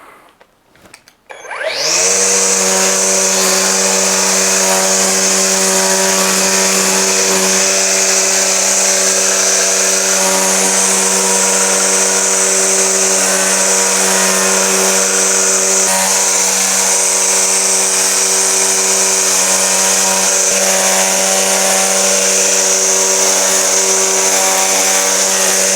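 An EGO 56V cordless line trimmer edges a grass border, giving a loud, steady high-pitched whine with a strong buzzing hum that starts after a brief moment and runs continuously, close by and without talk.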